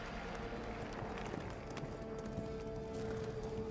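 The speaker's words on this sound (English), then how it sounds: "Horse noises." Horse hooves clatter in a steady rhythm with horse noises in a video game trailer, faint and far back, under continuous background sound.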